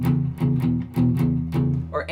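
Blues shuffle guitar in E, a steady looping riff of repeated low note pairs with sharp picked accents, loud and alone.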